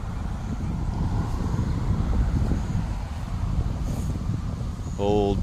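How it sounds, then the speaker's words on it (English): Steady road noise from traffic on a state highway beside a lot of old cars, a constant low rumble and whoosh throughout. "Do apologize for the road noise."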